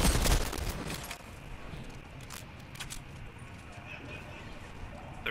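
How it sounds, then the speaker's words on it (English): Distant gunfire in a multiplayer video game: scattered, faint crackling shots with a brief louder burst at the start, heard beneath a voice talking. "Oh, someone else is shooting!"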